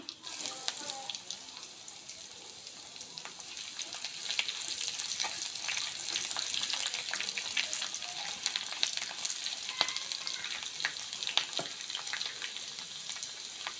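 Chopped garlic frying in hot oil with cinnamon, cardamom, cumin and bay leaf, giving a steady, fairly quiet hiss and crackle with scattered sharp pops throughout and no talk.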